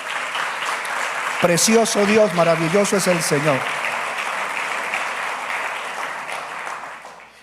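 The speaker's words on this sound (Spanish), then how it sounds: "Démosle un aplauso al Señor." A church congregation applauds the Lord with a steady wash of clapping while a voice speaks over it, and the clapping keeps going after he stops.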